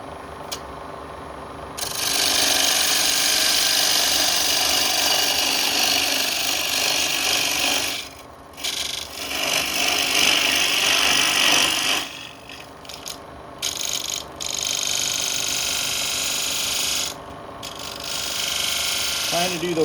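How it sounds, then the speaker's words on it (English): A straight scraper cuts the top of the wall of a cross-grain natural edge wooden cup on a lathe, giving a loud, continuous rasping scrape with brief breaks as the tool lifts off. "I'm going to do at least the top part of the wall with my straight scraper."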